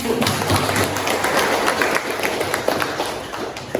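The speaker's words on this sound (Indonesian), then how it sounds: "Bagus, tepuk tangan." Students applaud in a classroom during a mathematics lesson, a short burst of mixed, uneven clapping at close range with some room noise.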